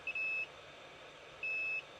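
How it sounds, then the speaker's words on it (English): An electrical tester, used while checking lightning-damaged PlayStation 5 HDMI and Ethernet ports, gives two short, clean high-pitched electronic beeps about a second apart over a quiet background. "Beep. Beep. Beep."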